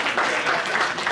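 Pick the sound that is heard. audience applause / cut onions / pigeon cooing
audience applause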